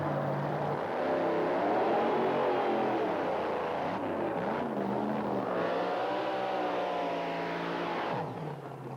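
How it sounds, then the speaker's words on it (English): A 1987 Ford Taurus station wagon runs at an Australian drag strip in the 1980s, its engine loud and steady, rising and falling in pitch over nine seconds with a continuous roar and no talk. "the 1987 Ford Taurus station wagon of Camp Stanley"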